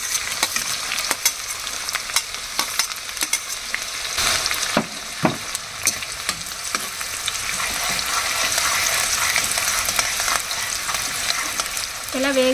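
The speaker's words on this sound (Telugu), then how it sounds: "ఇప్పుడు కట్ చేసి పెట్టుకున్న ఉల్లిపాయ వేసేసుకోవాలి." Chopped onion fries in a pan of hot oil, a continuous close sizzle with scattered sharp pops and stirring knocks, a voice briefly at the end.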